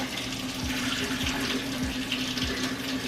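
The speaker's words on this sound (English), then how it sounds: "I'm actually going to pour some of this juice off first because I don't want to put it back in the oven with all this juice" Water runs steadily into a kitchen sink as pot roast juice is poured off, a continuous splashing stream with a low gurgle pulsing at regular intervals beneath it.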